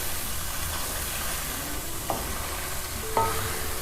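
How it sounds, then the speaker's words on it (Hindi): Tomato, garlic and ginger masala frying in a pan for chicken and cauliflower curry, a soft steady sizzle with occasional spoon stirs and light scrapes, close and even, no talking. "ये बस इसको अब इसी तरह ज़रा भूनेंगे ताकि ये टमाटर और लहसुन अदरक का भी कच्चापन ख़त्म हो जाए"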